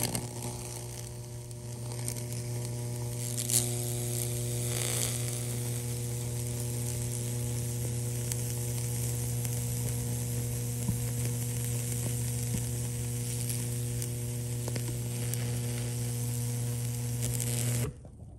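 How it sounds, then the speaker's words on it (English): High-voltage current burning a Lichtenberg fractal across the top of a piece of wood, a continuous loud hiss and sizzle with crackling bursts over a strong electrical hum, cutting off abruptly at the end. "The power is gonna try to connect between these two and it's gonna burn across the top of this."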